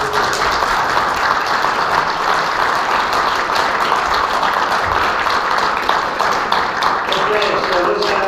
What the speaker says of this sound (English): Let's give him a great big hand of applause.